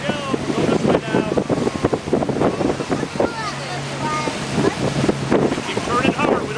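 A motorboat driven across open water, with wind buffeting the microphone, water splashing against the hull and a low engine hum running steadily throughout, while people talk nearby.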